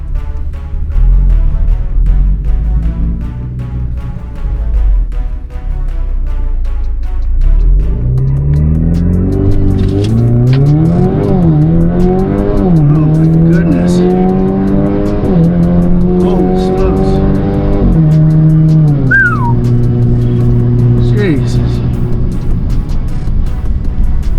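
A loud turbocharged 2.0-litre Alfa Romeo Giulia with a big turbo launches and pulls hard through several rising gear changes, the engine pitch climbing and dropping with each shift, close and continuous.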